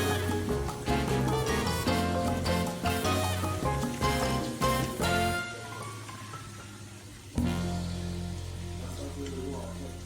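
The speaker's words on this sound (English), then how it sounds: "Frying a little canola oil here." Breadfruit frying in canola oil, a continuous sizzle from the pan that carries on under other sounds, with a sharp change partway through before the frying settles to a steadier hiss.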